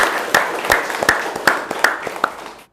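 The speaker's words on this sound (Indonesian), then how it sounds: "Oke, tepuk tangan buat Arif." A classroom of students claps for a classmate after a correct answer, with roughly seven sharp, fairly sparse claps in a steady rhythm close by, ending abruptly after under three seconds.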